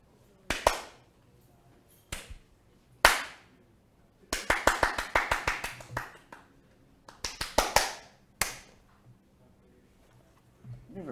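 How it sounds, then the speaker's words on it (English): Improvised hand clapping by one person at a live arts and music chat show in Monterey Bay, heard as sharp, close claps in irregular clusters: single claps, then quick rapid runs, with pauses between bursts. "here, I'll clap for you."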